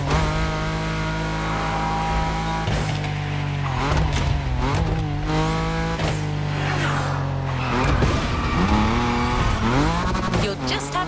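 Car drifting in The Crew Motorfest racing game, high among wind turbines, with sustained engine drone and sliding tire squeal swooping up and down across the whole stretch, loud and continuous alongside game music.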